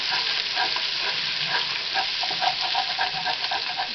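Sausage sizzles and fries loudly in a pan with caramelized onions, a constant crackling hiss with light stirring throughout.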